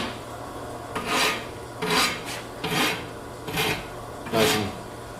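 A fairly new rasp files hot forged metal in five rough, scraping strokes, each a short burst of coarse rasping with quiet pauses between.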